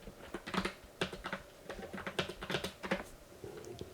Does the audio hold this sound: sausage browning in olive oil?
no